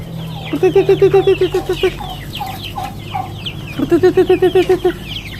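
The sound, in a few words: chickens clucking, including a Rhode Island Red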